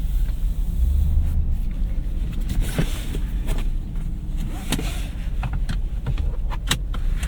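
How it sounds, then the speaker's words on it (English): A 2026 Ford F-250 Lariat pickup with a 7.3L V8 rolls along at low speed, its engine a steady low rumble heard from inside the cab, broken by light rattles and clicks. "we are off in this 2026 Ford F-250 Lariat."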